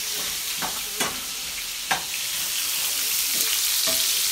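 Sausages frying in a pan give a steady, close hiss of sizzling fat, punctuated by a few sharp pops and clicks, with no talking.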